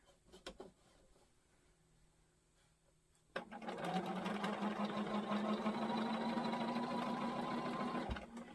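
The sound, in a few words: sewing machine stitching a quilt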